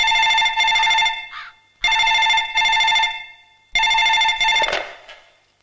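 A telephone rings in three bursts of harsh electronic double trills, each separated by a short pause, loud and close with no other sound around it.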